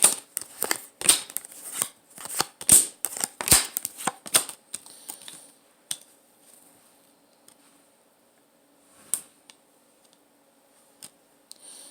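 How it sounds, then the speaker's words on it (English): Tarot cards being shuffled and drawn for a reading, a dense run of crisp riffling clicks and snaps over the first few seconds, then a few isolated soft card taps and slides in near silence. "Let me pull some cards."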